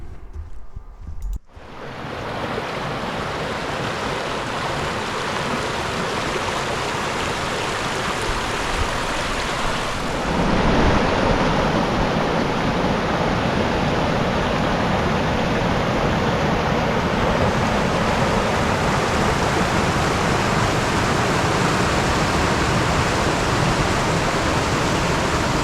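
The Upper Priest River flows through a cedar forest in Idaho's panhandle, a steady, full rush of water that grows louder partway through and continues alone without voices.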